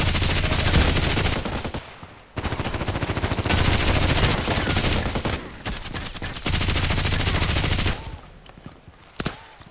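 Loud sustained bursts of RPKT tactical machine gun fire in the shooter game Contract Wars, rapid automatic strings broken by brief pauses, firing close and dominant throughout.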